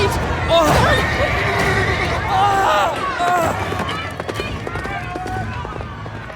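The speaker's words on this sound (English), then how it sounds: "Come on, a horse!" A horse neighs and whinnies, then runs with a galloping beat, loud and close amid chaotic shouting voices during a fleeing chase.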